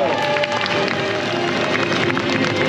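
A large crowd claps and cheers for gladiators in a packed arena show at the Roma World theme park, a dense, steady wash of applause filling the whole stretch with voices mixed in.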